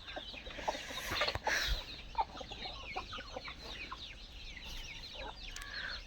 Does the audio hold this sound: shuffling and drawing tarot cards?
no